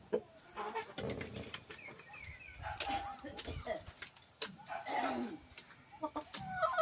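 Heritage chickens and young chicks at feeding time give scattered clucks and peeps over a steady background hiss, with occasional louder calls and a few soft thumps.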